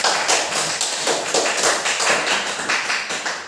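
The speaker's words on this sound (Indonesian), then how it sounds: "sebelum bertanya mungkin kita berikan aplaus dulu untuk kelompok 4 ya" Audience applause for a student group's presentation during a classroom teaching-practice session, a steady dense patter of many hands clapping throughout, fairly loud and close.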